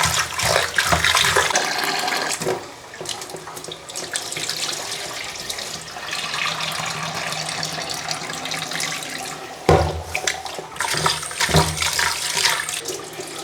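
Raw chicken for a dragon chicken dish being rinsed under a running kitchen tap, a steady close splashing rush of water that continues for the whole stretch with brief dips and surges.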